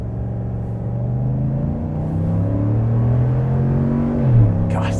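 A dual-cab ute engine accelerates while towing a load. The loud, steady rumble climbs in pitch through the gears, with a brief shift dip near the end, heard from inside the cabin.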